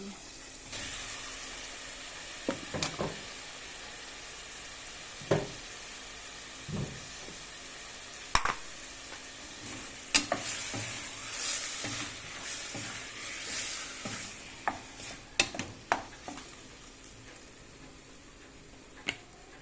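Chicken pieces sizzle in a pan while being sautéed for Filipino sinampalukang manok, a steady frying hiss broken by sharp clicks and scrapes of stirring, close and moderate in level.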